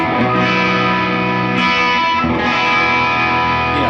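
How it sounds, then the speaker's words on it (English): Big, sustained electric guitar chords ringing out through a plate reverb with a bright, spacious tail, loud and alone. "Classic, it's just that classic plate, studio plate sound."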